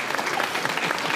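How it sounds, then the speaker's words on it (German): A 1970s German TV studio audience claps in a brief, dense burst of steady applause. "Hier ein Applaus dafür"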